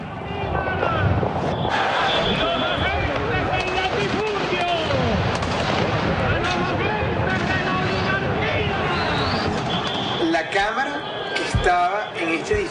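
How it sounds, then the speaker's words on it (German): Gunfire during a street shootout near a presidential palace in a coup, dense cracking shots and bangs mixed into loud crowd noise and shouting, continuous and chaotic throughout, with voices talking over it. "So dauerte es nicht lange, bis einige Chavez-Anhänger anfingen, dahin zurückzuschießen, wo die Schüsse herzukommen schienen."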